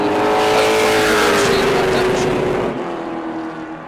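A Pro Late Model race car laps the New Smyrna Speedway during qualifying, its loud engine roaring at steady high revs with a slight pitch shift as it passes, a commentator talking over it.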